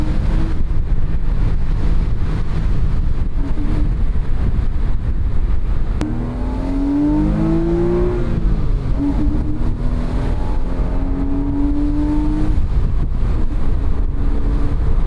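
A first-generation Porsche Boxster engine climbs steadily through the revs toward redline, its note rising in pitch, then rises again after a brief pause, with wind noise throughout.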